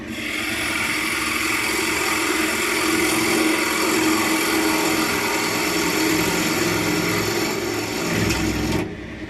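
A power tool works oak, cutting a small mortise into the bottom of a shallow ashtray dish held in small chuck jaws, giving a steady, close whir with grinding texture that runs unbroken for several seconds, then stops.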